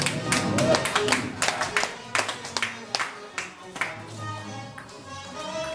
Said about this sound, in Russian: Аплодисменты, дорогие друзья.